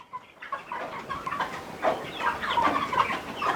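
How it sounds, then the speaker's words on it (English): Broiler chickens cluck and murmur steadily while they peck at spilled feed and droppings on a poultry house floor, a dense, close flock chorus with no talk. "The chicken are feeding on the feed and also on their droppings."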